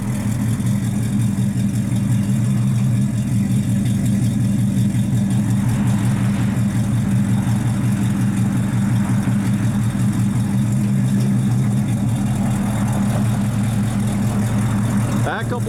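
A 1972 Chevrolet Cheyenne 454 short-box truck with 2-inch drop spindles runs nearby. Its engine gives a loud, steady low rumble with a constant idle hum and slight fluctuations throughout.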